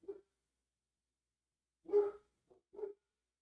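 Dogs barking outside, a few faint, distant muffled barks spaced apart with silence between them.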